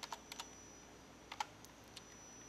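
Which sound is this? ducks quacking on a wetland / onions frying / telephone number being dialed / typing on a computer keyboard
typing on a computer keyboard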